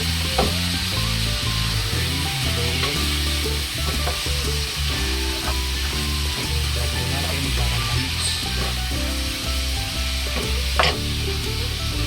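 Chicken biryani ingredients with tomato frying in a pan, a constant loud sizzle and hiss under steady background music, with scattered clicks of stirring and no voices.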